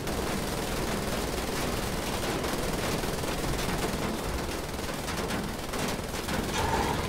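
Continuous gunfire in the shooter game Wolfenstein: The New Order, a dense, unbroken rattle of rapid shots and blasts at a moderate level without pause.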